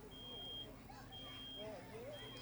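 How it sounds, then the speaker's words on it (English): Smoke detectors sound at a firefighters' open house fire demonstration, steady high-pitched alarm tones recurring in long bursts, fairly faint beneath crowd noise and a person talking. "So you can hear the smoke detectors already going off."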